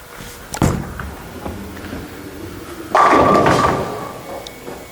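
Brunswick Melee Jab Carbon bowling ball released onto the lane with a sharp thud on landing, followed a couple of seconds later by a loud, sustained rumbling crash as it rolls on and strikes the pins.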